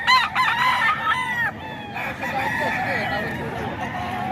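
An 11-month-old ball stag gamecock crows loudly and close, in one strong crow followed by a couple of weaker ones, while other roosters crow and cluck in the background.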